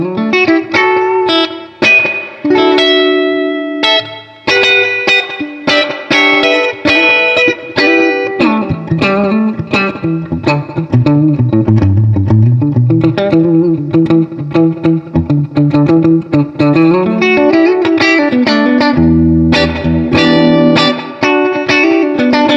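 An electric guitar played straight through a tube amplifier with no effects, loud and close, with ringing chords and single-note runs carrying a natural overdriven edge.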